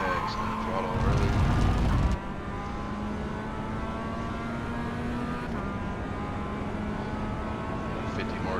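Mazda MX-5 in iRacing at Winton Motor Raceway, engine note dropping through downshifts then building as throttle comes on, a steady droning tone with a brief rougher burst early, under someone talking.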